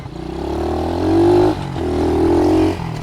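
A pit bike engine runs close by while being ridden, revving up in two rising surges with a brief dip between them, a buzzing mid-pitched drone with no talk.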